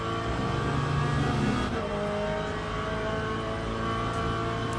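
A Le Mans Ultimate race car engine in the video game hums loud and continuous, its tone shifting through gear changes as the car drives on, with no speech over it.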